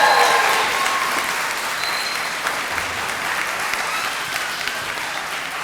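Audience at a 2023 commencement ceremony applauding, a dense, loud wash of clapping that starts strong and stays steady, with faint cheers mixed in.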